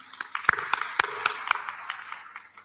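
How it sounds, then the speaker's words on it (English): A few people at a conference on HIV services give a thin, sparse round of applause, individual claps spaced out and quiet, tapering off after a couple of seconds. "Let's give them another round of applause."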